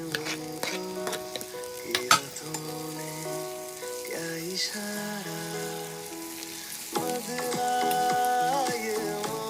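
Okra fries in a pan and gets stirred, a continuous sizzle with periodic scraping strokes set against steady background music.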